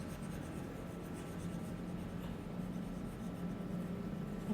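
Steady, continuous rubbing as writing is wiped off a board during a maths lesson, a close, even scrubbing texture lasting several seconds without pause or speech.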